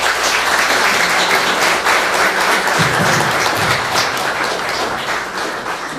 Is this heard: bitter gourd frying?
no